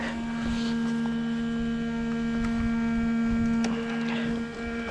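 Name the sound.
Opel car cooling fan running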